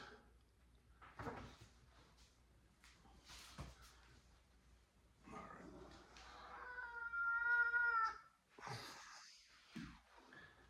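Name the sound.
cat meowing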